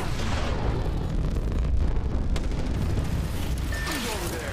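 A rocket burn ignition in Apex Legends roars as a dense, sustained rumbling blast that fills the whole moment, loud and unbroken, with a faint high tone near the end.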